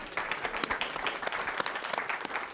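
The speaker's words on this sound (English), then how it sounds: "We can clap for that." A small group clapping at a city council meeting, a brief burst of applause up close with no voices over it.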